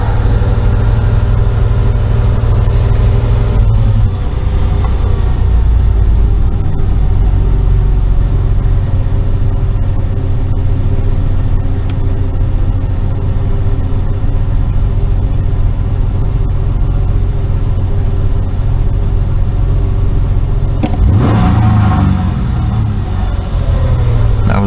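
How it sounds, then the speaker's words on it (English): A 1994 Ford Explorer engine runs steadily at close range during a key-on engine-running self-test, with its idle rising and falling on its own, then a sharper surge of revving toward the end. "You see RPM's going up and down by itself. That's computer testing itself."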